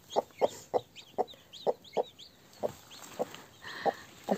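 Broody hens with newly hatched chicks cluck in a steady series of short, close clucks, about a dozen in quick rhythm, with faint high chick peeps between them and no talk.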